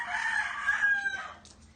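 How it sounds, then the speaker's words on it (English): A rooster crows once, a loud, drawn-out cock-a-doodle-doo close by that fades into quiet farmyard sounds. "Chicken."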